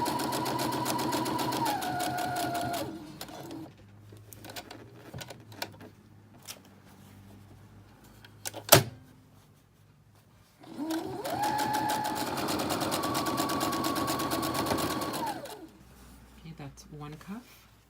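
Sewing machine stitching three sides of a fabric cuff, two long steady runs of rapid stitching separated by a pause with fabric handling noises and a sharp click.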